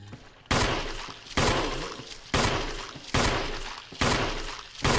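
Gunfire in the Resident Evil REmake video game: five loud, separate shots spaced about a second apart, each ending in a long decaying echo, with no talking.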